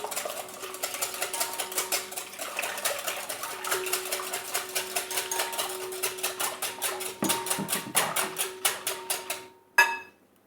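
Cake batter for a pear cake is stirred briskly in a bowl, a fast, regular clatter of utensil strokes against the dish that keeps going for about ten seconds before ending with a final knock.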